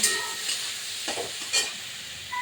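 Prawns being stirred into a ridge gourd paste in a hot pan, with a soft steady sizzle and a few scraping stirs of the spatula, close and moderately loud, with no talking.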